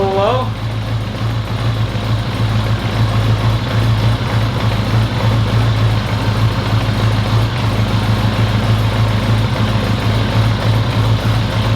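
A Honda Goldwing motorcycle engine idles slightly low in a restomod garage setting, giving a steady, even, close drone that never changes, with a voice briefly heard at the start.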